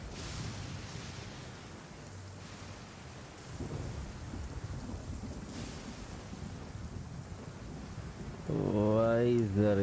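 Steady rain with rolling thunder rumbles from a stormy scene in the video game Genshin Impact, continuous and moderately loud throughout, with a brief voice near the end.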